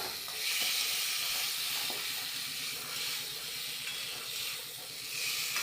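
Eggs in a pan hiss and sizzle steadily after a splash of water is added, a continuous close, bubbling steam sound with gentle swells.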